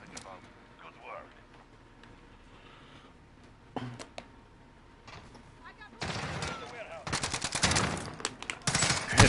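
Burst of rapid gunfire from a PlayStation first-person shooter, loud repeated shots clustered in the last few seconds after a quieter stretch of game sounds and faint talk.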